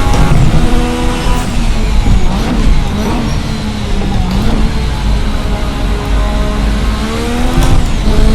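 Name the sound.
turbocharged V6 engine of Formula RSS 1986 car, Assetto Corsa video game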